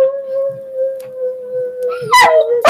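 Dog howling in a long steady drawn-out tone close by, ending in a couple of louder sharp yips.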